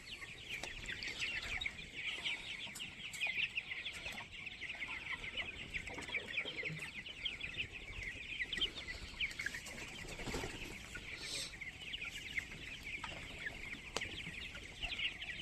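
A flock of 28-day-old tiger chickens cluck and peep continuously at a moderate distance, with a busy layer of overlapping calls and occasional sharper chirps.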